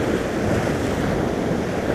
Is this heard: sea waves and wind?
yes